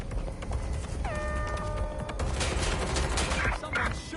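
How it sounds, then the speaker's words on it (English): Video game gunfire crackles as a rapid volley of shots. A tonal sweep sounds early, then dense, loud bursts come over a rumbling background. No one speaks. "Someone's shooting."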